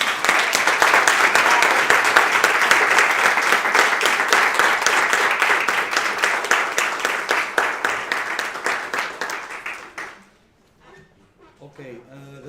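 An audience at a national platform conference gives a loud, dense round of applause, many hands clapping continuously for about ten seconds before it quickly dies away to near quiet.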